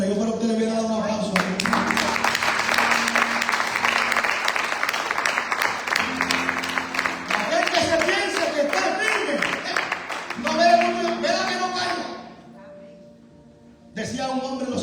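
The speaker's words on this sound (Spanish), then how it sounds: "Yo para usted le voy a dar un aplauso." A church congregation breaks into sustained applause, dense clapping filling most of the space with crowd voices mixed in, then tapering off near the end before noise returns.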